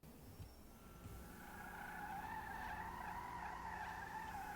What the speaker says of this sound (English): I'm holding the handbrake right now, and the front wheels are doing a burnout